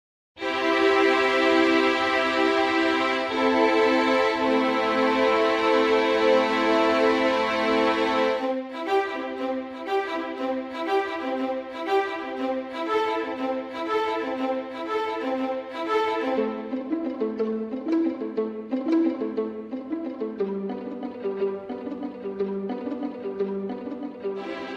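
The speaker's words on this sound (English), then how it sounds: "a string section that started off with some sustained notes, then went to some short staccato notes, then to some pizzicato, and then finally ending off with some trem strings" Orchestral string section from MIDI playback moving from long sustained chords to short staccato notes, then plucked pizzicato and finally rapid tremolo, played alone without talk.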